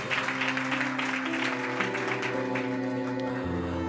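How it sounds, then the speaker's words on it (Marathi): A church congregation claps for the glory of the Lord during a service, steady rippling applause over sustained keyboard chords that fill the hall. "नक्की जरा जोरदार टाळ्या प्रभूच्या गौरवासाठी"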